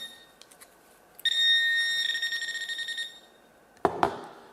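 A Garrett pinpointer metal detector held about a centimetre above a ring sounds a steady electronic alarm tone that breaks into a rapid pulsing beep. It falls silent, then a couple of sharp handling clicks follow.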